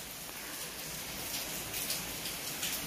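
Steady rain falls outdoors in a continuous, even hiss of drops hitting surfaces, moderately loud and close. It keeps up without a break, and no one speaks.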